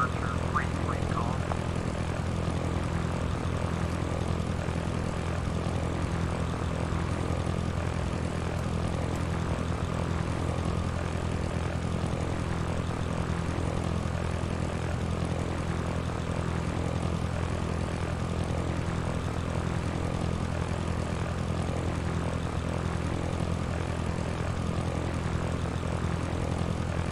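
Piper Archer propeller engine in a flight simulator game, droning steadily and loudly without a break, with faint radio-style voices over it.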